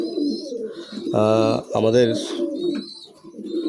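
A high-flying pigeon bought at a market coos loudly and close, two rich rolling calls in quick succession, with someone speaking briefly around them.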